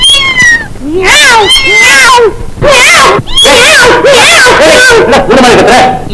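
A person imitates a cat's meow to scare off rats, giving a run of loud, wavering meows one after another with short gaps, with other voices chattering around them.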